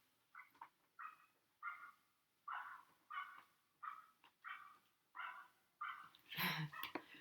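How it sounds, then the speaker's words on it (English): A dog barking from a distance: about ten short, evenly spaced barks in a steady rhythm, faint against a quiet background, with a louder burst of noise near the end. "With that doggy barking."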